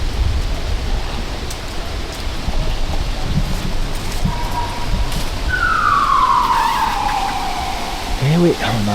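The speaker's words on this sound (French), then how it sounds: "on entend quand même les sirènes au loin" A faint siren wails in the distance in Montreal, rising and falling once over a steady background hiss near the end.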